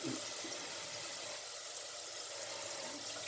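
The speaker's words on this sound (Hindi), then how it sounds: "मैंने 3 कप पानी इसमें डालना है।" Three cups of water pour steadily into a pot of rice for a Punjabi-style black chickpea pulao, a continuous close rushing splash with no talk over it.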